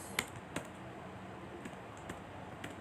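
A few scattered clicks from a computer keyboard as someone types into a statistics program, sparse and light, over a steady low room hiss, close by, with no talking.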